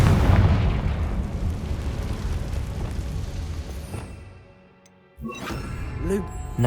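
Fire spell explosions in the Hogwarts Legacy video game: a loud roaring blast rumbles for several seconds and fades nearly to silence, then sharp bursts erupt again, close and heavy.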